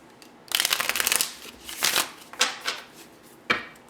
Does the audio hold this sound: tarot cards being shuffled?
yes